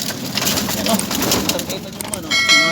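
Breeder pigeons cooing and fluttering close by in a loft, with soft voices talking underneath and a brighter ringing tone near the end.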